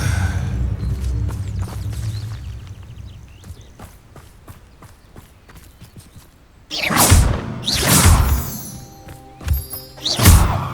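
Bombarda blasting spell from Hogwarts Legacy: after a quieter run of clicks and thuds, several loud, sharp explosive bursts land close together, with heavy booming impacts.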